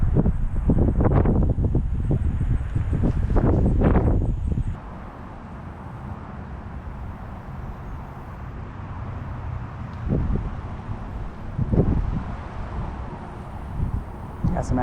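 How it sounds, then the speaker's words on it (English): Strong wind gusts across an open pond during fly fishing, a steady low roar buffeting the microphone throughout, heaviest over the first few seconds and continuing as a broad rumble with brief surges later. "As y'all can see, the wind is just whipping."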